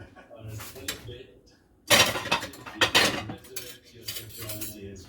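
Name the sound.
spoon scooping gills out of portabello mushroom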